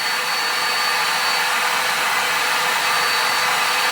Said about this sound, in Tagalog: Mag-blower po ako ng aking buhok.